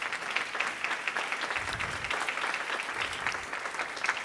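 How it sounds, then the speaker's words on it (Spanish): An audience at an education conference applauds to welcome a speaker, a dense, steady wash of clapping from many hands that holds evenly throughout with a few slightly louder swells. "con un aplauso, por favor, recibamos a Gregorio"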